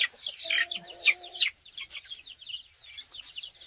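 Purebred Delaware chickens cluck and chirp in a busy, layered chorus close by, with a steady flow of calls that eases slightly after the first second and a half, while a rooster sounds among the flock.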